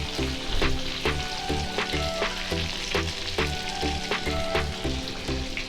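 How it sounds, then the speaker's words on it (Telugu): Oats-coated fish fries in a pan over a low flame, sizzling and crackling continuously and close, with faint rhythmic clanks in the background and no talk. "ఇలా సిమ్లో పెట్టుకొని వేపుకోవాలి. ఒకవైపు వేగాక మళ్ళీ ఇంకొక వైపు వేపుకోవాలండి."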